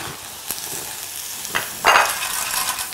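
Shellfish dropped into a hot pan with sweated shallots, thyme and garlic, sizzling steadily with a few sharp crackles and a louder burst of frying near the end.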